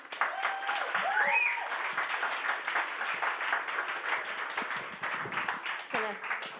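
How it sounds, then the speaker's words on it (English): An audience at a Talking Tales storytelling event gives a round of applause, dense clapping from many hands that stays strong at first and then thins a little toward the end, with some individual claps standing out. "Big round of applause, please, for Mel Ciavucco."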